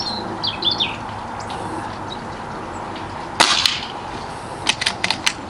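A Reximex Ixia airgun fires one sharp, close crack at a target, then a few lighter clicks and taps follow, with birds chirping faintly outdoors.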